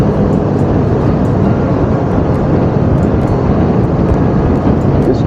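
Belt-driven Vespa scooter engine while riding through Winnipeg, a steady loud drone with constant road and wind rush, no pauses.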